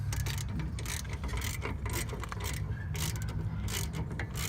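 A ratchet tightens bolts while brake pads are changed, giving loud, close, rapid clicking in repeated bursts.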